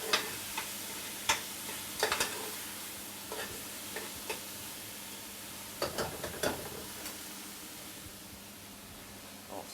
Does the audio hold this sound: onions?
yes